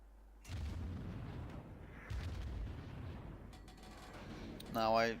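Warship guns firing in the naval combat game World of Warships, two deep booming salvos with rumbling tails heard at moderate volume, followed by a brief spoken word at the end.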